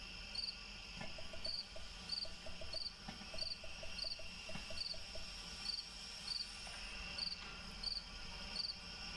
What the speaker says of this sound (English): The crickets and things that are just terrorising your ears at night